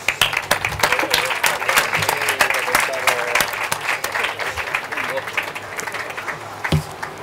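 Audience applause at a 20th anniversary corporate gala, a dense, steady roar of clapping that continues loudly throughout, with a brief voice near the end.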